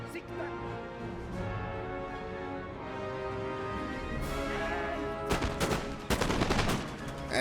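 Musket volleys in the strategy game Total War: Empire, bursts of crackling gunfire rippling out near the end over a steady musical background, with someone talking.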